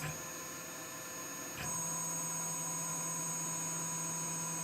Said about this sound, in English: I'm running a program from Fusion 360 to simulate the machining operation by just tracing around the top of a 123 block.